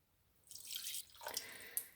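Water pours from a tap or jug into a pot of Belgian beef stew, a soft splashing stream that starts, pauses briefly, then resumes with a small final drip, close and fairly quiet.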